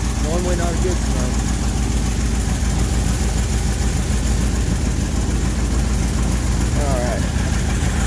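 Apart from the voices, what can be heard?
1979 vehicle engine running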